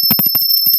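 Small hand bell rung after a puja, a quick series of about ten bright metallic strikes in rapid rhythm, close and loud.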